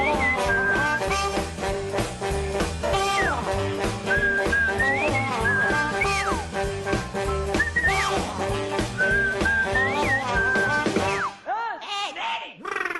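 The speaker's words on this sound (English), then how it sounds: "It's a whistly song, and I used to whistle to it." A cartoon theme intro is whistled over a full backing band, with a bright, bouncy melody that runs steadily and is loud and up front, then breaks off near the end.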